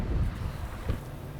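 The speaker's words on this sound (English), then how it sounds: "Hey, you can hear the wind whipping." Wind whips across an exposed golf course green, a loud gusty roar buffeting the microphone in low bursts over a brief stretch, with no voices.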